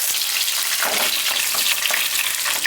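Dry and green chillies frying in mustard oil in a pan, a loud, close and continuous sizzle with bubbling crackle throughout.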